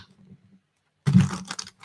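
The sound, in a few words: shuffling tarot cards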